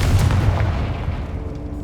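A deep booming blast from the Confringo fire spell in the video game Hogwarts Legacy, a loud low explosion at the start that rumbles and fades out over the next second or so.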